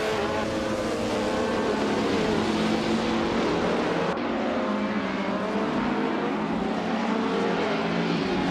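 Porsche 718 RSK race cars in a racing video game, a steady, loud blend of engine drone running throughout with a brief shift midway, no voices.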